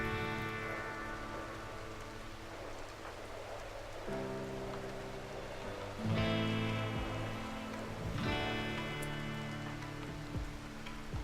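Quiet rain ambience in the colony-building game RimWorld, a soft continuous patter running beneath sustained, gently shifting musical tones that swell and settle.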